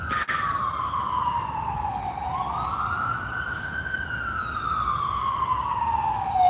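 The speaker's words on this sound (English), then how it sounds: "There's the ambulance." An ambulance siren wails loud and close, one long rising and falling sweep, then holds steady as it passes, with no talk over it.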